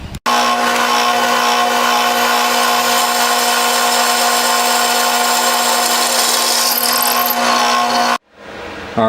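A power tool cuts steel feet for a DIY rack, a loud, continuous grinding whine with a steady pitch that stops abruptly near the end, close and alone.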